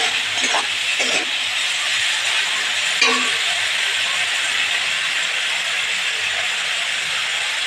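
A chickpea dish with turmeric being stirred as it fries in a pan gives a steady, close sizzling hiss, broken by a few brief scraping stirs. No one speaks.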